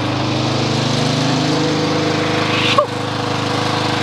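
A Toro Timemaster lawn mower engine runs steadily and loudly from start to end with a dense, even drone, broken only by a brief click or knock near the three-second mark.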